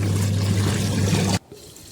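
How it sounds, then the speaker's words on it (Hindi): Water pours and splashes steadily as clothes are washed by hand, then cuts off abruptly, leaving a brief quiet drip. "बर्तन हमारे अभी ऐसे पड़े थे तब तक मैं पहले कपड़े को धुल ले रही हूँ।"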